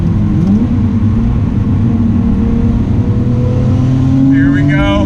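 Engine of a 1990 Nissan Skyline R32 with 615 horsepower and all-wheel drive, rumbling steadily and loudly at low revs while cruising, with the deep drone continuous throughout and a voice talking over it.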